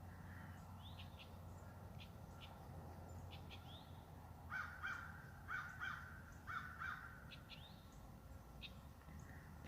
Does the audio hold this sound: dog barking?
no